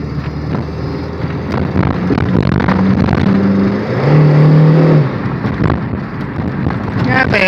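An old 110-horsepower car engine accelerates, its tone rising and falling through revs with wind noise over the microphone, and a person talks over the sound.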